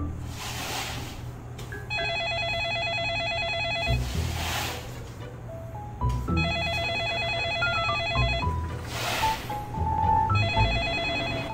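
A phone call goes unanswered: a repeating electronic ringtone plays in regular bursts with short gaps, a loud pulsing ring sounding alone over a low background hum for the whole stretch.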